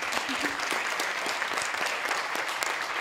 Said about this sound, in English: let's all clap and look at her so she's embarrassed